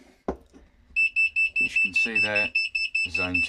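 Fire alarm sounders go off during a weekly fire alarm zone test, a loud rapid pulsing beep with a steady high tone repeating over and over while someone talks over it.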